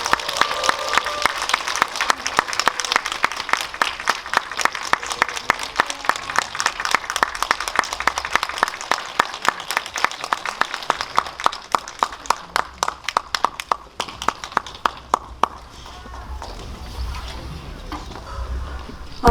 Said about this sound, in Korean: 큰 박수로 받아주세요.